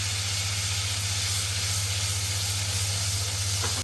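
Onion gravy hitting hot oil with mustard seeds, cumin and garlic gravy in a pan, sizzling in a loud, steady hiss that runs unbroken the whole time.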